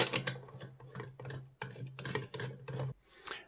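Screws being fitted back into a Thrustmaster TH8A shifter plate, heard as a string of close, quiet ratcheting clicks and turns in short bursts with brief pauses between.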